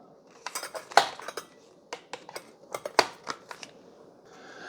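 Plastic and metal clicks and rattles from the beaters of a Ninja Foodi hand mixer popping out on the press of the eject button, several sharp close clacks over about four seconds, with no voices.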